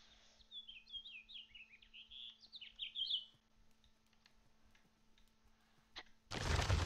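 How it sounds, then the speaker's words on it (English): A bird in modded Minecraft gives a rapid run of high, thin chirps for a few seconds, faint against a quiet hum, and then a sudden loud rumble at the end. "But this bird is really hard to get."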